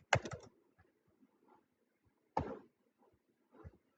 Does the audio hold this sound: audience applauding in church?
no